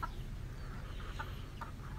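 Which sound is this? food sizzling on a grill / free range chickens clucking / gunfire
free range chickens clucking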